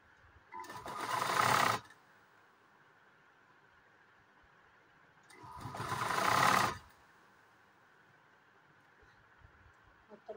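A sewing machine stitches a Peter Pan collar neckline on a blouse in two separate runs of fast, whirring motor noise, each lasting about a second, close and loud against a quiet room.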